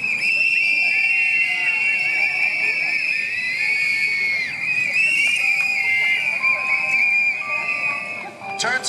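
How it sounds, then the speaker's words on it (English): Crowd at a Stop Asian Hate rally blowing many whistles at once, a loud continuous shrill chorus that holds for several seconds, with scattered shouts and babble underneath. "Blow your whistles."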